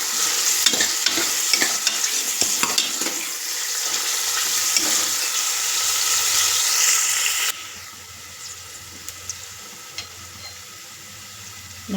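Onions frying in hot oil in a pan for a bamboo shoot and chicken curry hiss and sizzle steadily, with scraping stir strokes up close, then a quieter simmering sizzle after the stirring stops.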